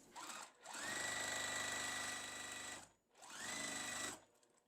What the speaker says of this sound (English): Then I'm going to sew from the left corner to the bottom right corner